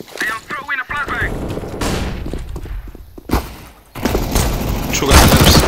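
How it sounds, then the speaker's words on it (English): A flashbang grenade thrown in Counter-Strike on the Inferno map, loud bursts and thuds amid game noise, with someone talking over the start of the action. "I am throwing a flashbang."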